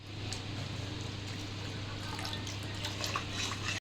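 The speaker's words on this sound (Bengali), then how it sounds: "এবার মশলার বাটিটা দিয়ে একটু জল দিয়ে দিচ্ছি" Water pours from a spice bowl into fried-down masala for a potol korma gravy, making a steady, continuous wet rush with a low hum beneath. It is close and fairly even, then stops abruptly.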